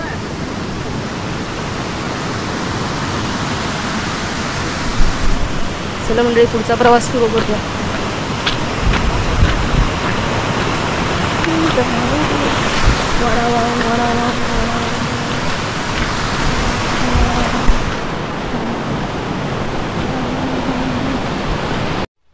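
A mountain spring stream at Garbett Plateau, Matheran, pours into a deep, clear pool, making a constant broad rush close by. A person talks briefly over the water.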